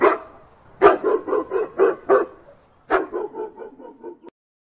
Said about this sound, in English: D for dog. D for dog.